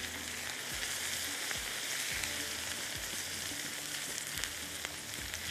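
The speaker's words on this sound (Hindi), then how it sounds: "चलिए इसको थोड़ा सा और फ्राई करते हैं।" Reshmi malai boti chicken pieces fry in a pan, giving a steady close sizzle and crackle that runs without pause, with a few soft low bumps from stirring now and then.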